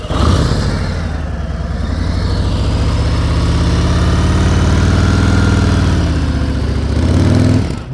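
A motorcycle engine runs loud and close through a riding lesson, holding a steady, rumbling idle-like drone with a slight swell near the end and no talking.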